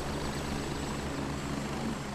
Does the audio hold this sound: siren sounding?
no